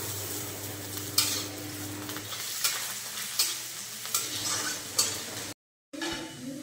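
Chopped onion, ginger and garlic fry in a pan with a steady sizzle and repeated scraping stir strokes at a loose rhythm, close and without voices, ending in a brief cut to silence.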